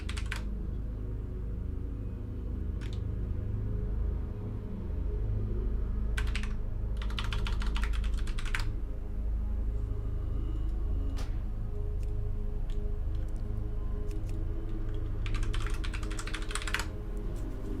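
A computer keyboard is typed on in several quick bursts of clicking keystrokes, close and clear over a steady low hum, entering a chat command in an AzerothCore World of Warcraft server.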